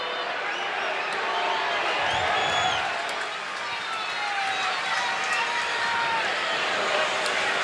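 Baseball stadium crowd at a Padres–Dodgers game at Los Angeles roaring and cheering for the next batter, a dense, steady wall of crowd noise swelling midway, with commentary talk beneath.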